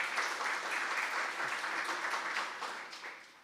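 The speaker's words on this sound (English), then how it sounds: "So let's give her a round of applause." A room of guests at a university teaching excellence awards ceremony applauds a director with dense, steady clapping that holds for several seconds, then gradually thins and fades near the end.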